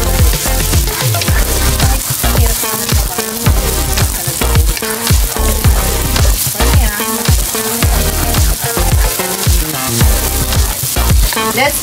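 Red onion sizzles and crackles steadily in hot oil while being stir-fried for pad see ew, with regular stirring scrapes and bursts throughout, loud and close.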